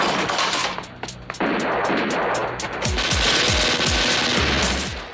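Automatic gunfire from an action scene in the 1989 movie Laser Mission, loud rapid bursts of shots rattling continuously with heavy low thuds, dense and close.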